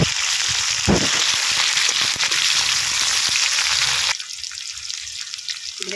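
Onions are added to hot mustard oil already seasoned with kalonji, making a loud, close, steady sizzle that drops suddenly to a quieter crackle partway through.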